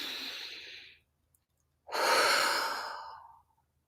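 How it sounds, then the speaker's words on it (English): A slow, deep breath close to the microphone during a calming EFT tapping session: a soft inhale, a short pause, then a long, airy exhale fading away, with no speech. "Go ahead and take a deep breath."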